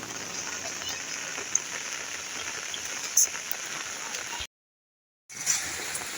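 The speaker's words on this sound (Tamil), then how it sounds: "சரியான தண்ணி போகுது." Steady hiss of rain and rushing floodwater, fairly faint, broken by a brief moment of silence before the wash resumes.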